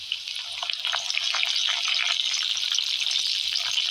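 Cumin seeds, garlic and curry leaves sizzle steadily in hot oil for a stuffed brinjal curry, a dense, even frying hiss that builds slightly and holds close and unbroken.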